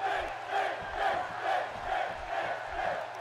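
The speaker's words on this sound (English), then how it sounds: "There's a bit of a Finn chant going on from the crowd." An arena crowd in the WWE 2K16 wrestling game chants "Finn" for Finn Balor at an NXT show, a rhythmic chant rising and falling about twice a second, steady and moderately loud across the whole stretch.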